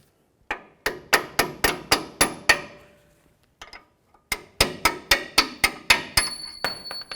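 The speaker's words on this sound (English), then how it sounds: "Now the next thing we need to do is go ahead and drive this bolt right out of here." Metal hammer blows driving a bolt out of the front strut on a 2009-13 Ford F-150, two sharp, loud series of evenly spaced ringing strikes, about seven then eight, separated by a short pause.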